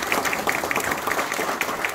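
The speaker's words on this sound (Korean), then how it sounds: "우리 전용기 위원장님께 박수 한번 부탁드리겠습니다." Audience applause fills a Democratic Party youth committee launch gathering in Busan, a dense, steady patter of many hands clapping close by for two seconds without a break.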